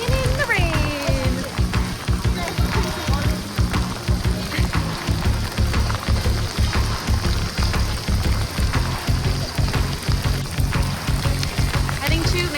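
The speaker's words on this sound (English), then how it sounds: "Walking in the rain." Rain patters steadily on surfaces while people walk through Disney World, with a dense, continuous crackle of drops and footsteps close by, and voices talking over it.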